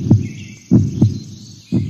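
Heartbeat sound effect: four soft, deep thumps in two lub-dub pairs, close and clear over a faint airy hum.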